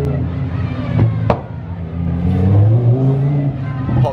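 A Lamborghini race car on the grid at Silverstone during a race day, its engine rumbling and revving with a couple of sharp pops, heard close and loud over faint background voices.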